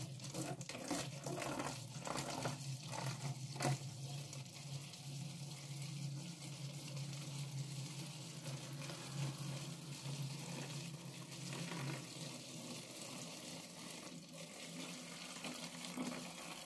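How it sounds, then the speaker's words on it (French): Iced tea mixed with water is emptied into a container, giving a continuous soft pouring and trickling wash that lasts throughout, fairly quiet, with no talking. "Maintenant, on va le vider tout dedans."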